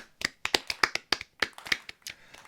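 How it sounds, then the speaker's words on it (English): Sparse, distinct handclaps from a small number of people, sharp and close with irregular spacing, fading slightly toward the end with no voices over them. "let's give a round of applause to the memory of Hippo"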